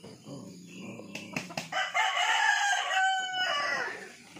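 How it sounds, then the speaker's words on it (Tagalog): A rooster crows nearby, a long strained call after a few short clucks and rustling sounds. "Manok-manok."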